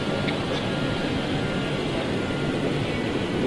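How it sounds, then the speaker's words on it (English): A Boeing 747 jet rolling along the ground after landing at Schiphol airport gives off a steady, broad, roaring rush. The sound holds at an even loudness from start to finish, with no voices over it. "another 747's just landed"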